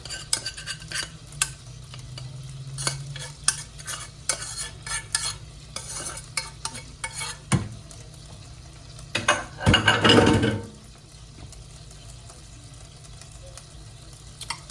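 Spoon scraping and stirring rice into a casserole dish for a salmon and rice casserole, with irregular close scrapes and taps and a louder burst of scraping near the end; no talk.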